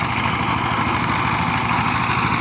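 A power tiller engine runs steadily in an open field, a continuous close, even drone with a rough mechanical throb and no pauses or voices.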